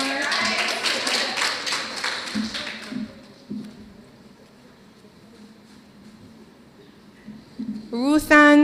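A crowd at a white coat ceremony applauds graduates with dense, steady clapping that fades after a few seconds, then quiet room tone and a voice at the end.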